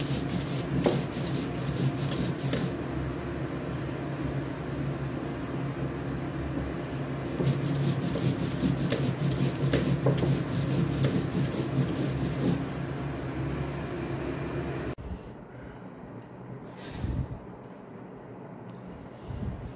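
Green chillies being ground into a paste, heard as steady, rough back-and-forth rubbing and scraping strokes that run continuously and close by, then drop away to near quiet with a brief knock near the end.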